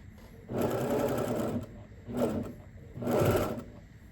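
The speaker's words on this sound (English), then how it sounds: "when I come to the end, I'm just going to sew off of the material and back onto it" A sewing machine stitches through quilt fabric in three separate runs, close and moderately loud, each burst of stitching lasting about a second with short pauses between.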